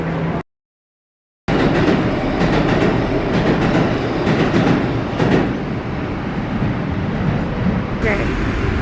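A New York City subway train rumbles and clatters along the tracks, loud and continuous, after a brief silent gap at the start, with faint voices mixed in.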